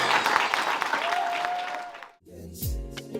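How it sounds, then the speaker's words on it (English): Audience applause for the Gathering of Christ Church Choir at a Feast of Dedication service, dense clapping that swells and then drops off abruptly about two-thirds through, followed by a quieter tonal sound. "Gathering of Christ Church Choir. Let's give them a round of applause, family"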